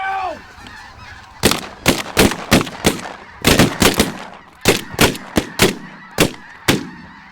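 Loud gunshots ring out during a hunt, about a dozen sharp blasts in quick irregular bursts, with geese honking at the start before the shooting begins.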